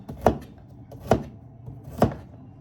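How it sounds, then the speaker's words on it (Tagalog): Garlic cloves being sliced on a chopping board for home cooking, three distinct knife chops about a second apart, close and clear with no talk. "Hiwan natin ng bawang"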